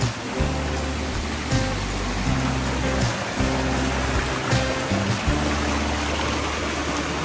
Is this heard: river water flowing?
yes